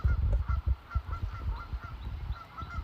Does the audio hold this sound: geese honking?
yes